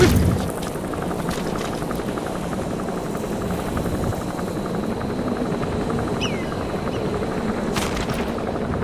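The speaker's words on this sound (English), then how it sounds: "Support helicopter requested." Support helicopter in Metal Gear Solid V arriving, a continuous rotor thrum and rumble filling the scene at steady loudness, with brief game effects over it.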